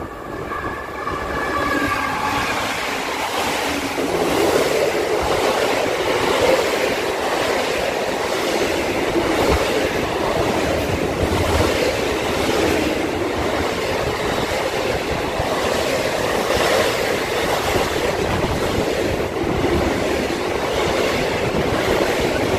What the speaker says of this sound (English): A log train.